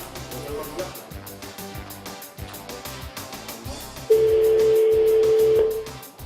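Telephone line on a French radio show: a steady tone sounds alone for over a second near the end, over a jingle-like musical background with rhythmic beats.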